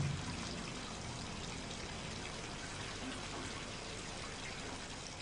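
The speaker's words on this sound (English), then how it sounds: "Dr. Peter Schultz fills a small tank with water to see how the ocean would react" Water pours into a small tank during a laboratory impact experiment, giving a continuous, even rushing that starts slightly louder and then settles without pause.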